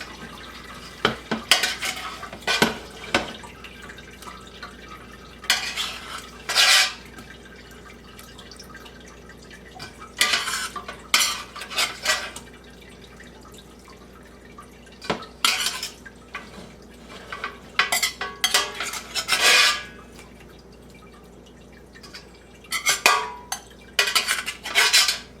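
Pindo palm pulp is strained and stirred in a pot for jelly, giving scattered bursts of clinking, scraping metal and wet sloshing separated by quiet pauses, close by with no talking.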